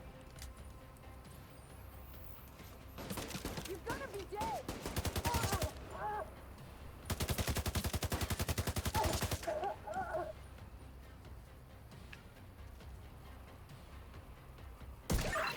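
Video game gunfire aimed at the player: two long bursts of rapid automatic fire, each lasting a few seconds and loud against a quieter ambient background, with short pauses before, between and after.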